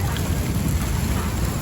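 A strong open fire roars and crackles while milkfish grills over it. The crackle is a dense, steady rush that is loud and close, with no voices.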